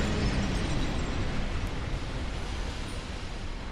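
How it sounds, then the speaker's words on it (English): A dense, steady roar of rumbling blasts in the video game Dark Souls, loud and continuous, like sustained explosions with a broad noisy texture throughout. "Good thing to get away from those explosions if you can."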